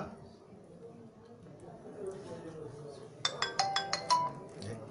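Voices murmur in a room as an electronic phone ringtone suddenly chirps in several quick bursts.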